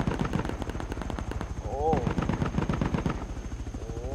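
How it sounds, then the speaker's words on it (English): Rapid video-game gunfire from a multiplayer match, dense bursts of automatic shots crackling steadily throughout, with people talking over the shooting. "They are shooting each other."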